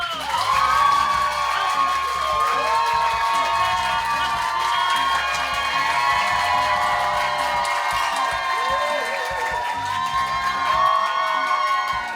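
A theater audience at a stage play greets the cast with loud, sustained cheering, high-pitched screams and applause that keep going for over ten seconds at full volume.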